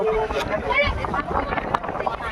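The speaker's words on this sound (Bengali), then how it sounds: "আমাদের লঞ্চ চলে এসেছে আমাদের লঞ্চ এসেছে দেখতে পাচ্ছি আমি" A passenger launch arrives on the Ganges at Belur Math, its steady boat and water rumble mixed with strong wind buffeting the microphone outdoors, continuous and fairly loud.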